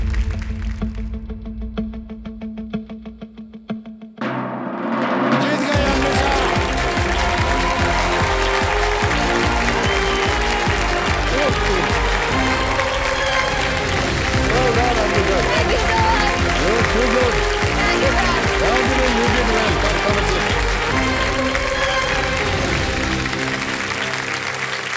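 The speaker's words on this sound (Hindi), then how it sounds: "तालियां बजाएं इनके लिए।" Sustained studio audience applause fills a KBC game show set, loud and dense, rising after a quieter opening and continuing for about twenty seconds.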